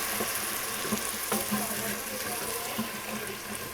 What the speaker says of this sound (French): Et on va mouiller tout de suite avec le vin blanc pour décrocher le fond là.